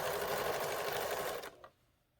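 A sewing machine with a built-in walking foot runs a steady, fast stitch along a table runner's binding, then stops abruptly with a brief click before quiet; close and loud, no talk.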